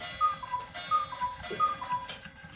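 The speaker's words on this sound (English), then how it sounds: "The clock on the wall says 3 o'clock." A wall clock ticks steadily in a quiet room where a knife is being sharpened, its faint, even ticks repeating alone with no voices.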